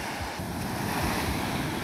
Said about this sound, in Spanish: Y ahí vienen las olas, todos a la expectativa.